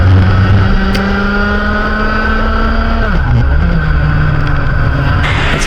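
A pack of KA3 Junior Heavy racing karts at Ipswich during a race final, loud buzzing two-stroke engines droning close by with pitch shifts as they brake and accelerate, overlapping one another.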